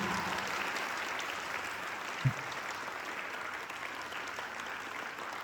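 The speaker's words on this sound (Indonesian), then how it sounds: "boleh kasih tepuk tangan untuk Bante Dirapunyo." Steady applause from a room full of people at a school talk, sustained and even throughout, with one brief thump partway through.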